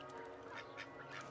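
Runner ducks kept in a home garden give a brief, faint burst of quacking calls, quiet and somewhat distant.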